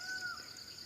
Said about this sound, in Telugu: దట్ ఈజ్ నెమలి అరుపు.